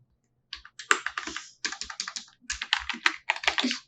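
Code being typed on a computer keyboard, close, crisp key clicks in quick bursts with short pauses between them, loud and alone with no voice.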